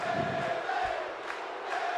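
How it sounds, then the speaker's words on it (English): Crowd chanting Bailey at a ladder match in the WWE 2K17 wrestling video game, a steady roar of many voices with rhythmic swells, fairly distant and heard without commentary. "There's a Bailey chant going in the crowd"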